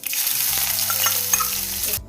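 Garlic, a dried red chilli and nigella seeds sizzle steadily in hot oil in a wok, a dense close crackle with a few faint utensil taps, cutting off abruptly near the end.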